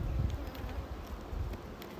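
Honey bees swarming around an opened hive during an inspection at an apiary, a faint continuous buzzing drone with a few soft swells and light rustles.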